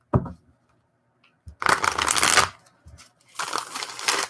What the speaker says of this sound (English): Let's go ahead and give it one more shuffle